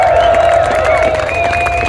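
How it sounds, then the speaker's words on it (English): Crowd at a People's Convoy meeting cheering and applauding, a dense steady roar of claps and voices filling the whole stretch without a break, with a sustained tonal whistle or horn line running through it. "Round of applause for all of our independent medias, our live streamers."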